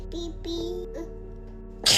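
A little girl gives a sharp, sudden sneeze at the end, preceded by soft child vocal sounds and a steady low background hum indoors.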